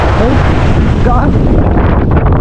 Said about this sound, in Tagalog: Ay, lakas ng hangin talaga, men